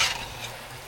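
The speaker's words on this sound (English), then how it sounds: "Let's add the aubergine in here. Mix this one." Giant aubergine with meat stirred in a hot pan, a brief loud hiss of sizzling with a quick scrape at the start that settles into a steady close fry.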